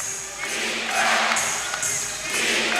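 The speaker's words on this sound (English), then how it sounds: "Crowd imploring Vancouver." A crowd in a basketball arena at a CEBL game, Montreal Alliance at Vancouver Bandits, roaring steadily to urge on the home team, loud and sustained with swells of cheering.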